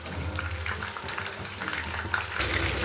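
Chicken pakoda pieces deep frying in hot oil, a steady bubbling, crackling sizzle held at moderate loudness throughout.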